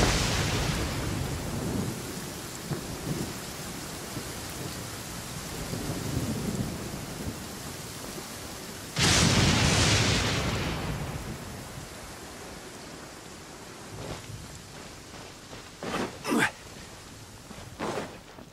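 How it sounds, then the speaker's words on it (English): Steady rain hiss and rumbling thunder in a Genshin Impact storm scene, with a loud thunder crack midway and a few sharp rolls near the end, all without talk. "Still raining."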